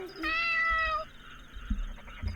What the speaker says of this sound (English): It's only a kitty.